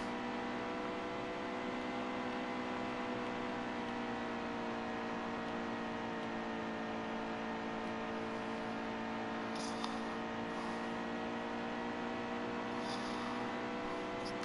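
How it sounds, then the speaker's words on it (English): Race car engine in the NASCAR Heat 2 video game at Texas, a steady, flat-toned drone holding the whole time at constant loudness, with a few faint high clicks near the end. "Does my car sound flat to anyone other than me?"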